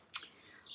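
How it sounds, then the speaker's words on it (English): Birds chirping outdoors, one brief bright chirp followed by a fainter high call near the end, faint and alone with no talk. "Do you hear all those birds?"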